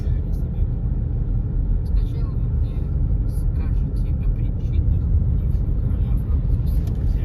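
A car passes on a village road near Seregovo, outside Ukhta, where new street lighting is going in. Its steady, close engine and tyre rumble fills the whole stretch without letting up.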